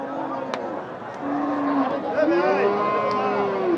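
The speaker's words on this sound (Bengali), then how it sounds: "এই মুহূর্তে এনামুল ভাইয়ের গরুগুলো আমরা এখানে একটু দেখব।" Cattle low and moo several times at a cow market, drawn-out calls over a busy market murmur with voices in the background.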